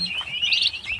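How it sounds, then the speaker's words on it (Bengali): One-month-old turkey chicks on a farm give high, thin chirps, a quick run of peeping calls close by with no voices. "আজকে আমাদের ফার্মে যে টার্কি মুরগিগুলো রয়েছে এগুলো আপনাদের দেখাবো আমি"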